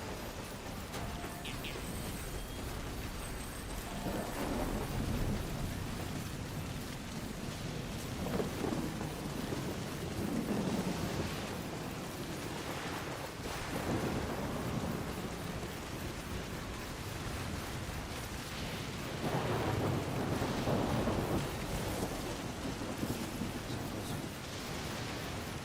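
Steady rain in the video game Death Stranding hisses continuously, with low rumbles swelling and fading at intervals like distant thunder; no voices are heard.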